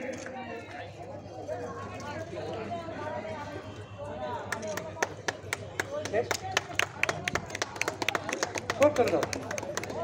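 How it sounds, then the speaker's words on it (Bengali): An audience at a prize-giving for a children's sports meet claps in a burst of sharp, scattered hand claps that starts partway through and keeps going. Voices and chatter are heard underneath. "একটু হাততালি জোরে দাও"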